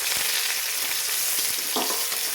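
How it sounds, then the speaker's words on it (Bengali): Onions sizzling in hot oil in a pan with panch phoron, two bay leaves and a green chili: a steady, dense frying hiss with small crackles throughout, close and fairly loud, no talking. "দেখতে পাচ্ছি পেঁয়াজটা ভাজা হয়ে গেছে"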